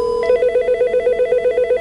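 An office desk phone on an extension line rings loudly and close with a rapid warbling electronic trill that repeats in quick, even pulses.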